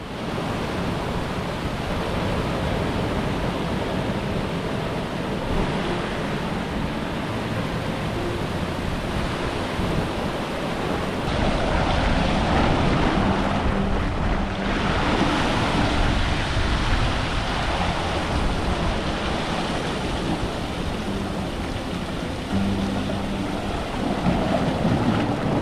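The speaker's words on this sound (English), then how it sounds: "Smart to back away a bit from the waves, even if they are tiny, they are so unpredictable." Ocean waves breaking at Sorrento Ocean Beach, a steady loud roar of surf and white water with broad rushing noise that swells slightly midway, heard close and continuous with no voices.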